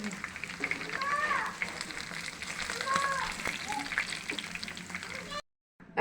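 Hilsa fish fry in hot oil in a pan, a steady crackling sizzle with scattered pops that runs for about five seconds before cutting off to brief silence.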